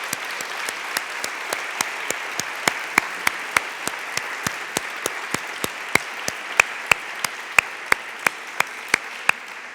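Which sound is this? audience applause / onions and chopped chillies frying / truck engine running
audience applause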